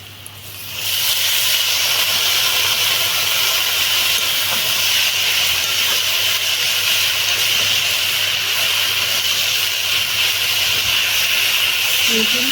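Leafy greens added to a pan of fried onions in hot oil: a loud, dense hiss of frying erupts after a quiet start and holds steady at high volume.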